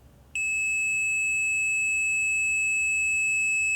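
A multimeter's continuity beep sounds on an ignition coil wire of a 1983 Harley-Davidson FXRT Shovelhead: one steady, loud high tone starts abruptly and holds unbroken to the end, with no talk.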